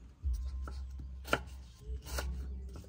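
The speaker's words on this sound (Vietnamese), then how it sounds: "Mình sẽ xắt xả." Lemongrass being sliced with a knife on a cutting board, a few separate sharp chops spaced apart, close and fairly loud over low background hum.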